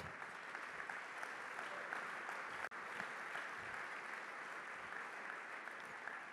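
A church congregation applauds in praise, sustained steady clapping from a large group that continues throughout, with one sharp click partway through.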